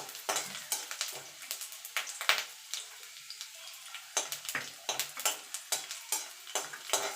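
Garlic cloves and dried red chillies frying in oil in a pan for a jackfruit-seed bhorta, giving a steady close sizzle broken by repeated scraping stirs, with no talking.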